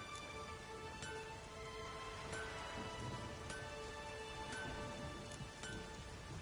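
A stormy downpour in a PS4 video game: steady, dense rain hiss runs throughout, with a few soft thunder-like rumbles and crackles mixed in. No one speaks.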